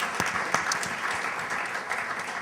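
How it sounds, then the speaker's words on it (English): An audience at an energy technology pitch event gives a short round of applause, a steady wash of many hands clapping, fairly faint and even. "Round of applause for Daniel."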